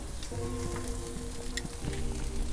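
Chicken on a gas grill sizzles steadily, with loud crackling from fat flare-ups and a faint tonal hum running underneath, close and continuous, without any talking.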